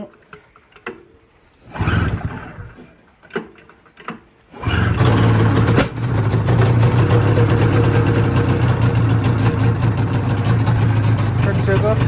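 A 2001 Polaris XC SP 600 two-stroke snowmobile engine is cranked a few times, then catches and runs at a steady, loud idle close by, with brief talk in the background.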